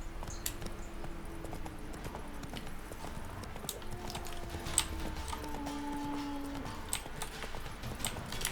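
Hooves of the horse Roach clop steadily on a path in The Witcher 3, a continuous rhythmic clatter of hoofbeats close by over low game ambience and music tones.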